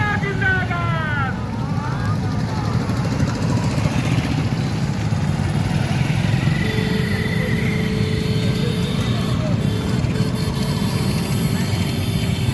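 Motorcycles riding in a political rally procession, a steady rumble of several engines throughout with a crowd and voices over it.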